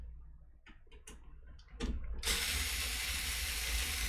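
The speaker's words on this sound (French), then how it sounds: "Enfin, ma visseuse électrique là" Electric screwdriver taking apart a Samsung television, a few short ratcheting clicks followed by a sustained loud whirring drive that runs steadily to the end, close up.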